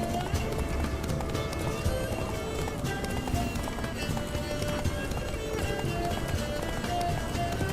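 A ridden horse gallops in The Witcher 3: rapid, continuous hoofbeats against busy game sound, with voices in the mix.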